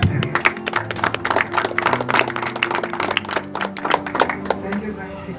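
An audience at a live education ashram programme claps to welcome the councillors, with dense, uneven handclaps close by that continue throughout and thin out at the end, and a voice speaking over them.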